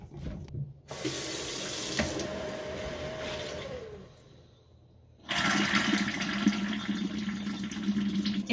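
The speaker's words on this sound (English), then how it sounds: "It should be a steady stream of water coming out of here" Tap water running through a newly installed water filter in a kitchen, flowing in two loud sustained bursts separated by a short near-silent pause.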